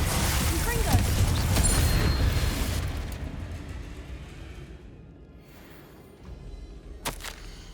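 Magical Confringo fire spell from Hogwarts Legacy, a loud booming blast with a rumbling burst that fades over several seconds, followed by a sharp crack near the end.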